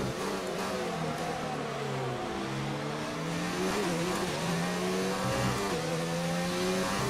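An F1 car engine from F1 2019 at Bahrain screams as it accelerates out of a corner, its pitch climbing and sliding through gear changes in a steady, loud, close drone.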